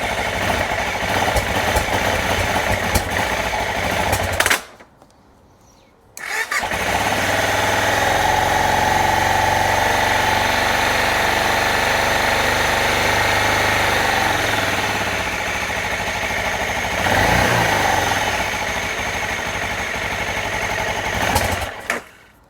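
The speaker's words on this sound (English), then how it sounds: "Did some tuning of the bike off camera just to get the idle right." El Chapo Funduro motorcycle engine idling steadily at close range, a continuous mid-pitched running drone that cuts out briefly for about two seconds early on, then resumes evenly to the end.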